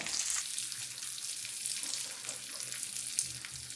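Cashew nuts and raisins fry in a pan for a Kerala carrot payasam, giving a steady, soft, hissing sizzle that continues evenly with no talking.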